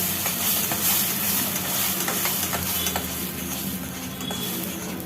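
Two medium tomatoes, ground to a paste, sautéing in oil in a pan for a papad curry, giving a steady, close hiss of sizzling with a few faint stirring scrapes and no voices.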